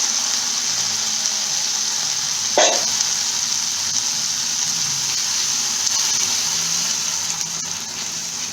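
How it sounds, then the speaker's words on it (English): Dal hitting a hot pan for charcoal-style dal makhni, giving a steady, loud, continuous sizzle with a brief sharper crackle near the start, no voices. "Now it's time to add the dal to this."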